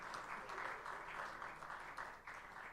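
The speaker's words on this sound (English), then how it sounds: "Please, a round of applause for him." Audience at a book festival applauding a guest: a steady wash of many hands clapping, moderately distant and even, with slight swells and a brief dip near the end.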